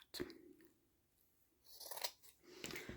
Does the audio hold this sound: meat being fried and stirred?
no